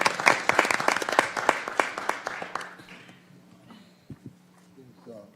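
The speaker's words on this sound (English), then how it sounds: "A round of applause." A small audience at a county commissioners court meeting gives a short round of applause. The crisp individual claps are sparse and close, thin out after a couple of seconds, and quiet talk follows as the room settles.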